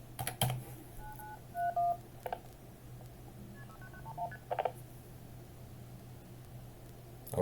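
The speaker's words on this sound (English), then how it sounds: "You can hear the tone, and then I will manually dial 626-9931." Manual dialing of a seven-digit number on a phone patch set up with SDRs: short DTMF tone bursts at an uneven pace, each followed by a brief click, over a steady low hum and hiss. No voices.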